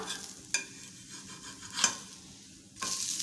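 Cabbage and rice flour pancake sizzling in hot oil in a pan, with a few soft scraping clicks as it is lifted and flipped, the frying hiss swelling briefly afterwards.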